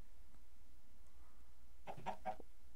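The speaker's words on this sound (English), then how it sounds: "Mr. Gary Chicken, get over here" A chicken outdoors gives a few quick, faint clucks in a short burst near the end, after a quiet stretch of background hum.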